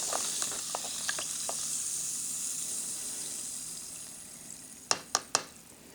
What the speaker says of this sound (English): And it's still bubbling, which means that the chemical reaction is still occurring.